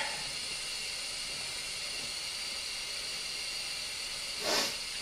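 A Stuart 501 model steam boiler hisses steadily as steam builds, a constant faint airy rush with a brief louder puff near the end and no talk.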